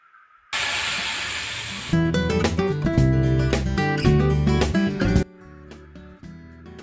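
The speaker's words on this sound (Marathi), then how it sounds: "यामध्ये आता आपण जे अर्धा लिटर दूध घेतलेले आहे ते ओतायचं आहे।" Milk poured into ghee-roasted vermicelli for shevaya kheer hisses and sizzles loudly in the hot pan at first, then gives way to clattering and clinking.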